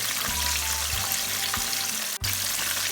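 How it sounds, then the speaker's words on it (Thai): Hat Yai fried chicken frying in hot oil over high heat, a steady dense sizzle running throughout with a few soft knocks from stirring and a brief dip near the end, no voices. "วิธีทอดที่ไม่ให้อมน้ำมันเนาะคือพยายามใช้ไฟแรงค่ะ"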